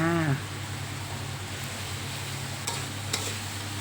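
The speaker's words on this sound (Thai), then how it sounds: "เทลงไปเลยจ้าแล้วก็ผัดคลุกเขาให้เข้ากัน นี่ก็เป็นอันเสร็จแล้วนะคะ ใส่ใบกระเพราลงไปเลยจ้า" Crispy pork and holy basil leaves are stir-fried in a pan with a steady, close sizzle, a brief tonal squeak at the start, and a couple of light scrapes near the end.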